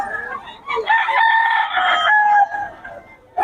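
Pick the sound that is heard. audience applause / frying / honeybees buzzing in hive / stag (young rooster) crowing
stag (young rooster) crowing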